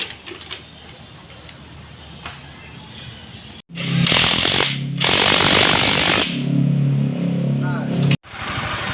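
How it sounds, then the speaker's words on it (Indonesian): A Honda CB150 motorcycle engine starts after a repair for a fully seized engine in a repair shop, then runs loud and rough in a sustained burst that cuts off briefly. A voice talks over the engine. "ini sekarang mesinnya sudah nyala ya, sudah aktif kembali ya, sudah bisa disela ya, sudah nyala ya"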